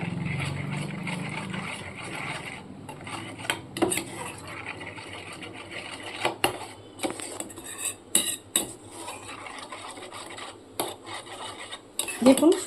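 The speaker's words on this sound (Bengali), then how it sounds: "টক দইটা দিয়েও মশলার সাথে খুব ভালো করে মিশিয়ে নিতে হবে" A spoon scrapes and clinks around a pan while sour curd is stirred into spices for paneer bhapa, a close run of irregular metallic knocks and scrapes over a low background hum.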